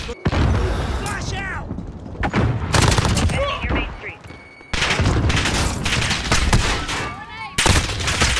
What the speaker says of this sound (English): I'm fucking suppressing fire.